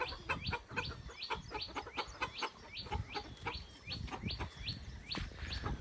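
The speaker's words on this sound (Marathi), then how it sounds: "कोंबडा माया माग आलाय टडांग टडांग करीत" A rooster gives a rapid series of sharp, repeated calls and clucks in a quick, regular rhythm, close and fairly loud with no talking.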